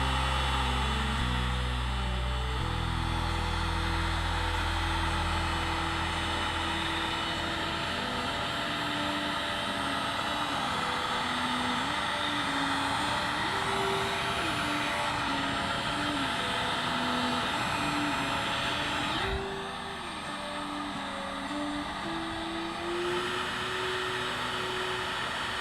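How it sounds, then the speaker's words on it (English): A heat gun blows steadily at close range while shrinking heat-shrink tubing on a motorcycle dash wiring harness, giving a constant airy roar with a droning tone that shifts in pitch, alone throughout. "Remember, the heat gun does put out heat, so be careful as you're using it."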